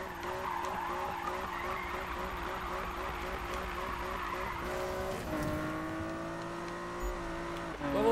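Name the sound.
car skidding with handbrake in video game Need for Speed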